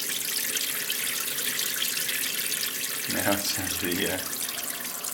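Water poured into a sediment transport model, 2,500 milliliters, splashing and trickling over a steady background wash, with a voice speaking briefly near the end.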